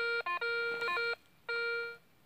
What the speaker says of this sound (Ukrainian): Хто зараз буде до мене дзвонити на інший телефон?